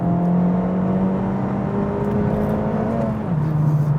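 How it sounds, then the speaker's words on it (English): An Acura Integra Type S 2-liter turbo engine whirs and climbs in pitch toward about 7,000 RPM, holding a rising tone before dropping briefly and revving again, loud and close with no talking. "All right, let's talk about this motor. 2-liter turbo."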